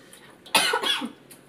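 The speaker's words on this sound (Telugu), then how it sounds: "చూడండి దగ్గు ఎలా వస్తుందో." A woman with a cold lets out a single short, wet cough up close, followed by a quieter breathy catch, then stillness.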